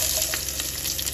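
Cumin seeds crackle and sizzle in hot oil, a dense continuous hiss with faint pops throughout, close and steady with no talking.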